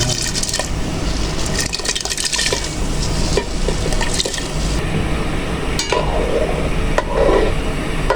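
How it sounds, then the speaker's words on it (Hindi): Soaked rice is poured into a pot of boiling water for an aloo baingan meal, giving a continuous loud bubbling and sloshing with scattered small splashes and clinks, no talk. "अब इसमें चावल शामिल कर देंगे।"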